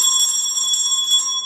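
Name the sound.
notification bell sound effect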